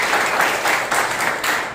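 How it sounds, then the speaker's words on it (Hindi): Brief burst of steady applause from a congregation at a Sunday morning church service, a dense wash of clapping at moderate loudness with no voices over it. "एक जोरदार ताली बजाएं"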